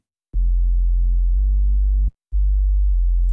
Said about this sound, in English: This is literally just a sine wave with some pitch modulation applied.